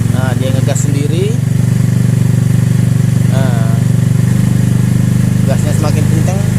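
A hot Honda Vario 110 scooter engine with an unstable idle runs loud and close, droning steadily as it revs up by itself, while someone talks over it.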